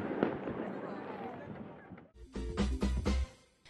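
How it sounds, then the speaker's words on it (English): Fireworks over the River Shannon crackle and fade in a long echoing decay, then a cluster of heavy booms and bangs rolls in quick succession, with voices mixed in. "A magnificent fireworks display lit up the sky over the Shannon"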